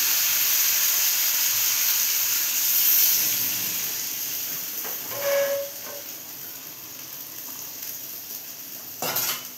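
Steady loud hiss and sizzle as gravy liquid goes into a small hot kadai holding potol, potato and paneer curry, with a few spoon scrapes and clinks over the continuous frying noise.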